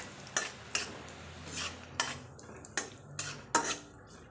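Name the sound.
cashews and raisins frying in oil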